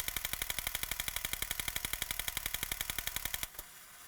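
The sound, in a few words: toy robot firing its chest guns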